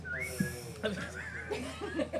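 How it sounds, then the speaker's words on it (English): A short whistled tune of a few gliding notes sounds near, mixed with chuckling and brief laughter from people nearby. "That whistle is perfect."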